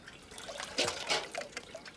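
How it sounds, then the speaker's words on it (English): Water poured through an old sock filled with charcoal into a billy, heard as soft close trickles and drips with a couple of brief splashy spurts, fairly quiet and without talk. "Then you take your water that you want to be purified and pour it through the sock"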